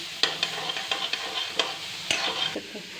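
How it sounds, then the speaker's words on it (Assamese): Fish curry with kordoi (star fruit) is stirred in a frying pan: a spoon scrapes and clacks in irregular strokes over a soft, constant sizzle, close and clear, with no voices. "এতিয়া এনেকৈ লৰাই দিছোঁ"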